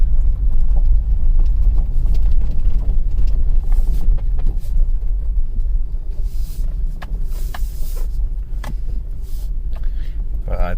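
A 2006 Mercury Mountaineer 4.0L SOHC 4x4 driving slowly around a building, a steady low engine and road rumble heard from inside the cabin, with a few faint rattles and knocks.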